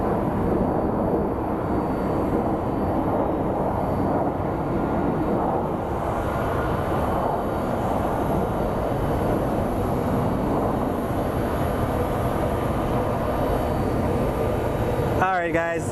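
A jet airliner roars on takeoff at Phoenix Sky Harbor International Airport, a broad, steady, loud rumble heard from a spotting position that stays constant throughout.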